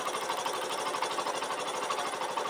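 A motorcycle engine runs steadily at idle up close, a continuous dense mechanical chatter with a fast, even rhythm and no speech over it.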